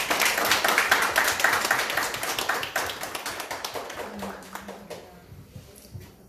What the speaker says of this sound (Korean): 우리 감사의 박수, 축하의 박수 한번 해주십시오